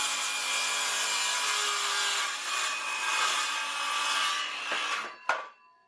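A saw cuts steadily through two wooden bookcase side pieces clamped together, a close, continuous rasping stroke with no talk, ending with a sharp knock as the cut finishes.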